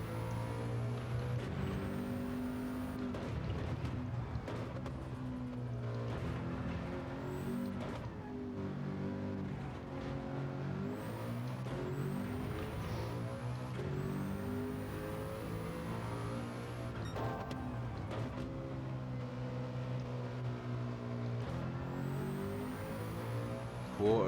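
Nissan GT-R R34 with a swapped R92CP racing engine in Gran Turismo 7 on Sardegna Road A, a loud continuous engine note rising and falling through gear changes and engine braking, alone without talk.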